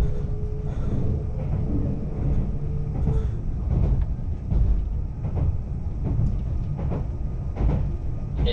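Interior rumble of a Meitetsu μSKY train pulling into Inuyama station: a steady low roar with rhythmic clicks of wheels crossing rail joints, heard continuously from inside the carriage.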